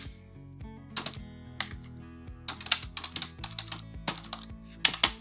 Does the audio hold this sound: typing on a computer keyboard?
yes